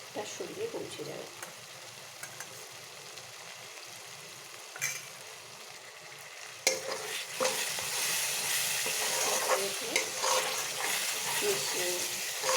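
Aar fish curry with sour yogurt stirred in a pan: quiet with faint scattered clinks at first, then a sudden loud, continuous sizzling hiss that holds to the end.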